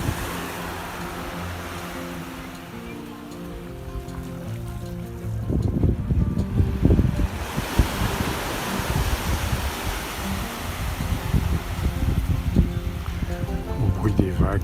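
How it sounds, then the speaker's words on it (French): Waves wash along a very long beach at São Martinho do Porto, a steady broadband surf roar that swells louder midway, with rumbling wind buffeting underneath and no voices. "Au bruit des vagues."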